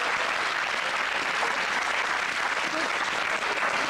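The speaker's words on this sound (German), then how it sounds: "Applaus!" Studio audience applause on a German TV talk show, a steady dense wash of clapping that holds at full strength for the whole stretch, with no talk over it.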